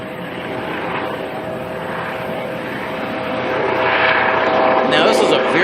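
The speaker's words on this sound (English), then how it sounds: "That's a helicopter taxiing too." Helicopter taxiing toward the runway at Auckland Airport, a steady rotor and engine rumble heard from a distance that swells gradually louder, with no one speaking.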